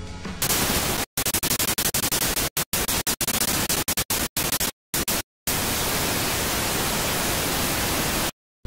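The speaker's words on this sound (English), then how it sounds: "now you should have a white noise." Harsh broadband white noise hiss from the Harmor synth in FL Studio, chopped into stuttering bursts with brief silent gaps, then settling into a steady continuous wash before cutting off.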